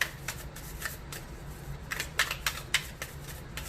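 A tarot deck being shuffled up close, with repeated riffling bursts and soft flutters at an uneven rhythm, no voices.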